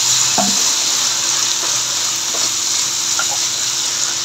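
Chicken frying in a pan as an ingredient is poured in, giving a steady close sizzle with faint stirring and clinks throughout, no talk.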